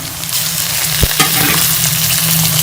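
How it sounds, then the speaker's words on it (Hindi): Tomatoes and green chilies fry with softened onions in a pan, giving a loud, close, steady sizzle broken by a couple of sharp stirring knocks, with no one speaking. "अब इसमें मैं टमाटर और हरी मिर्चें भी शामिल कर लूँगी"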